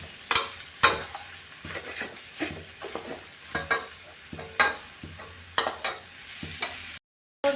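Corn and carrot being stir-fried in a hot pan, a soft sizzle punctuated by repeated scraping and tapping strokes of a spatula, close and fairly quiet.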